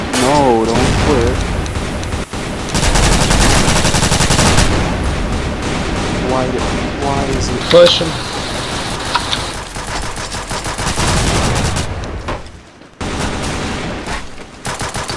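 Rapid bursts of modded Counter-Strike: Source gunfire and booming shots fill the scene, loud and nearly continuous, with someone talking excitedly over the shooting.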